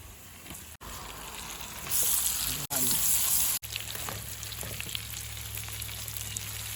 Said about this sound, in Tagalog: lagay na natin tong onions. Mapiprito din naman yun.